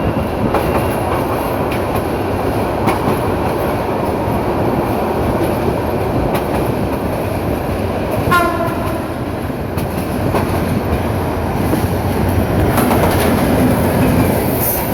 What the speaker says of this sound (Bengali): সামনের দিক থেকে আরো একটি ট্রেন আসছে।